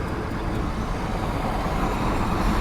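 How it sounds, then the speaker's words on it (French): A road vehicle approaching on a road, heard as a steady broadband rumble of engine and tyre noise holding throughout, loud and close, with no talk. "Là, j'entends une voiture arriver."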